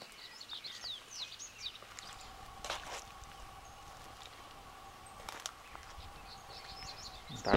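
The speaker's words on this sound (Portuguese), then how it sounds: "Bastante pássaros aí na árvore" Birds singing in trees in rural countryside near Altinópolis, São Paulo, with scattered chirps and short trills at moderate distance over a quiet outdoor background, plus a few brief knocks and a louder call at the end.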